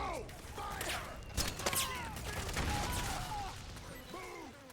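Gunfire pops and crackles in the stealth action game Metal Gear Solid 4: Guns of the Patriots, sharp shots mixed with mechanical clanks under shouted battlefield voices.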